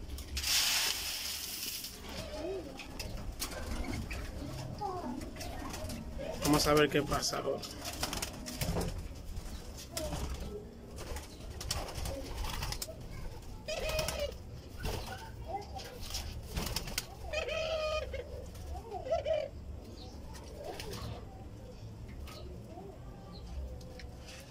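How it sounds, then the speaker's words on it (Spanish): Turtle doves feeding on scattered food give soft repeated cooing and brief wing flutters nearby, with someone speaking Spanish over them throughout. "Ahí están las tórtolas comiendo."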